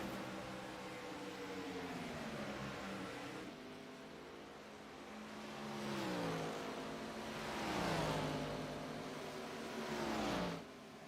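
Race cars circling the track during an Integrity OCTANE Series race, the Central Indiana 250: engine tones rise and fall as cars accelerate and pass, swelling louder in waves against a constant crowd-and-track wash.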